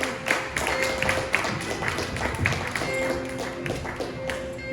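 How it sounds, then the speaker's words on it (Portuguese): Church congregation clapping steadily together, a dense patter of hands with some sustained musical tones underneath. "Pode aplaudir ao Senhor"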